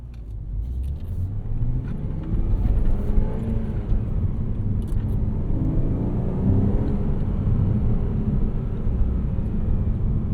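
A 2011 Porsche Cayman 987.2 base with a six-speed manual, its engine droning loud and steady under load from inside the car, a deep rumble that builds slightly and holds.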